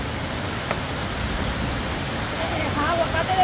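Steady broad rush of water running down from mountains in a heavy storm, a constant wash of noise with faint voices underneath.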